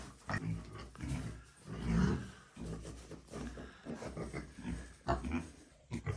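Farm pigs grunting and snorting close by in an irregular series of low, rough bursts, some louder squeals and growls mixed in, with no talk over them.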